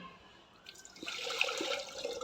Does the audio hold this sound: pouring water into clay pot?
yes